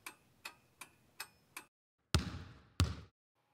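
A clock sound effect gives five even, quiet ticks at a steady pace, then two heavier hollow thuds after a short gap.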